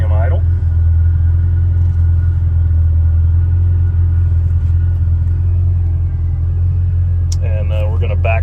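A 1982 Ferrari Mondial 8 idles at about 1200 RPM in a shop on cold oil, a steady loud low engine rumble throughout, with a person talking briefly at the start and end.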